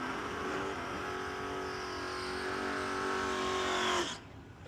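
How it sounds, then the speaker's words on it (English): Drag race cars, a Hemi-powered car lined up against a 1969 Chevrolet Nova, roar at full throttle in a loud, steady engine drone with rising pitch, then cut off abruptly near the end. "Going up against Bill Lyons in the 69 Nova."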